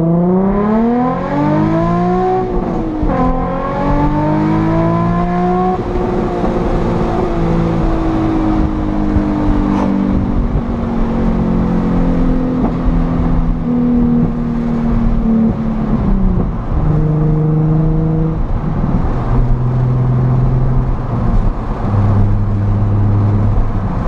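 A Nissan 350Z with a Tomei exhaust pulls hard through the gears, its loud engine note climbing and dropping with each shift, then settling into a steady cruising drone, close and continuous with no talking.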